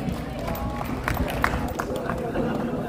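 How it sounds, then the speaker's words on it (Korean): Audience at a Gyeongbuk federation president's inauguration ceremony clapping in welcome, a moderate patter of applause with crowd murmur and a voice speaking over it. "다시 한번 따뜻한 박수로 환영해 주시면 고맙겠습니다"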